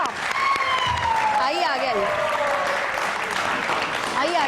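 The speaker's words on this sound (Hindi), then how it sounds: "एक बार फिर हमारी फोर्सेस के लिए बहुत सारी तालियां।" Studio audience applause on a Pakistani TV variety show, a dense steady clatter of clapping throughout, with a host speaking over it and a tonal musical element rising and falling.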